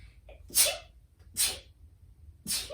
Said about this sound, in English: I do have to sneeze